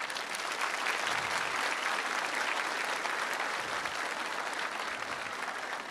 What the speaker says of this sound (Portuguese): Uma salva de palmas para o nosso escritor